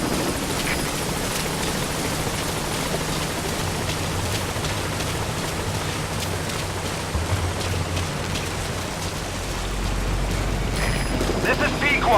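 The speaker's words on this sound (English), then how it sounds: "Support helicopter has arrived." Support helicopter settles at a landing zone in the video game Metal Gear Solid 5, a steady, dense rotor roar with a wash of rain-like noise throughout, growing slightly heavier toward the end.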